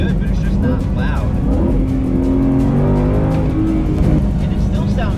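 Inside a Ford Mustang GTD, the engine growls and revs steadily at close range, its tone rising and falling with acceleration, muffled and not especially loud from the cabin.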